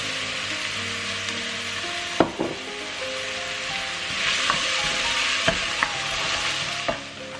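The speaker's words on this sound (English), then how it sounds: "Add the garlic and onion." Garlic and onion frying in a pan for a plant-based spaghetti bolognese, a loud, steady sizzle close by with a few sharp knocks and scrapes from a stirring utensil, no talking.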